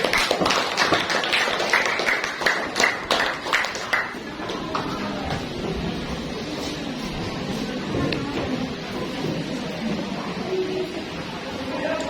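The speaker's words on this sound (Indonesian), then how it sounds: "Tepuk tangan untuk kelompoknya Ceril" A group of students claps loudly for about four seconds in a classroom after a group presentation, then the applause fades into a busy room murmur.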